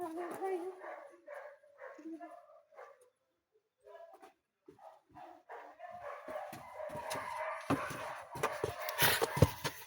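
Several dogs bark in sharp, scattered bursts, some near and some farther off, with people talking over them.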